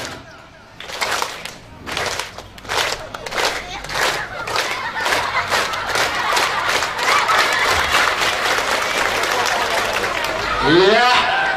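An audience at a school farewell event performs rhythmic 'tepuk gembira' clapping, sharp unison claps that start spaced and speed up into a rapid steady run, with crowd voices rising at the end.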